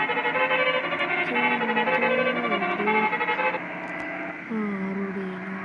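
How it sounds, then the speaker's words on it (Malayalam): A vehicle's musical horn blares a sustained melodic tune with stepping pitches for several seconds, loud and close, over low road noise. "ചിലർക്ക് ഈ ഹോൺ അറിയില്ല."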